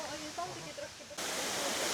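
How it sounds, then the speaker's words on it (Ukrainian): Waterfall at Khao Ra in Thailand, a broad rushing roar that swells sharply partway through and then holds steady and close, with faint voices talking in the first half. "а ось і водоспадик"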